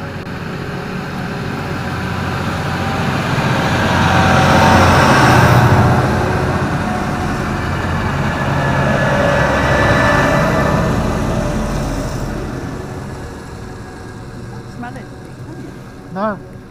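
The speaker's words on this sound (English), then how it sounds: "The 7th and 8th tractor struggling up this hill." Tractors labouring up a country hill, a low rumbling engine drone that swells as they pass and then fades, heard over continuous wind or road noise with a short knock near the end.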